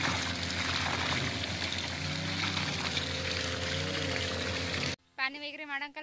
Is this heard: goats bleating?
no